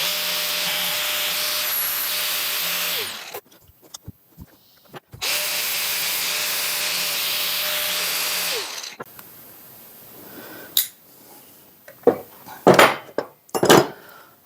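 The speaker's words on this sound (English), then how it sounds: "Pretty serious when you gotta get a flap disc on your tip here." A flap disc on an angle grinder grinds down a tractor canopy repair, two loud sustained bursts of a few seconds each separated by a pause, followed by scattered clanks and knocks of handling metal.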